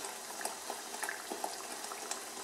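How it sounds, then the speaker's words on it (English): A pot of onion-blend stew for Ghanaian waakye simmers quietly, its soft bubbling pops and crackles steady and close, with no voice over it. "we need to let it also cook down really well and to have all that water simmer out of it"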